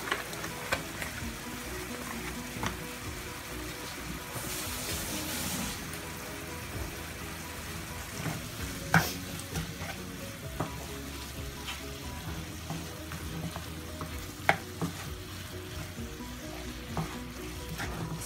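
Spices sizzle in a pan as they are stirred with ground meat and dried coriander, a soft continuous frying hiss broken by scattered clicks and scrapes of the stirring utensil, with no talk.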